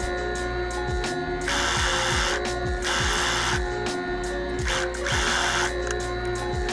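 A sewing machine running fast as it stitches a garment hem, played sped up: a steady mechanical whirring chatter with repeated short bursts and pauses, close and fairly loud, with no talking.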